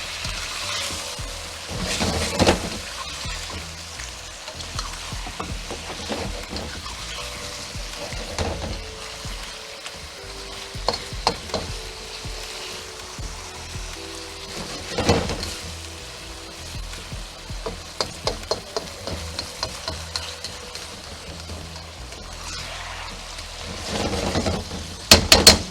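Filipino chicken stir fry sizzling and frying in a pan, a steady crackling hiss with scattered sharper pops and occasional stirring clatter, close and continuous with no talk.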